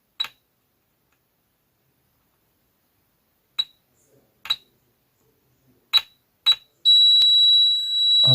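Multimeter in continuity mode during motherboard repair, its buzzer sounding as probes touch a MOSFET gate and nearby pins: brief clicks and probe taps, then a loud sustained high-pitched tone held for about a second and a half near the end.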